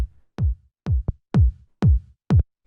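Punchy minimal house kick drum processed with drum bus drive and boosted transients, five deep thumping hits in an even steady rhythm with a short softer tap between, dry and isolated.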